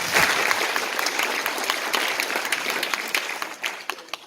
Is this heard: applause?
yes